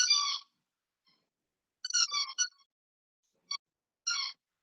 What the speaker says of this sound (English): is squeaking, I think, her new toy